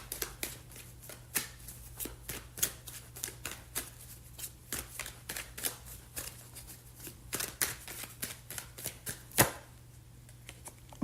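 Tarot cards are shuffled by hand in a rapid run of crisp riffling snaps and soft slaps, repeating steadily at close range over a faint low hum, with no talking.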